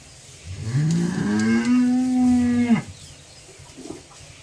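A Holstein Friesian dairy cow on a farm near Shadnagar gives a single loud, close moo that rises and then holds steady for about two seconds before cutting off, leaving quiet background noise.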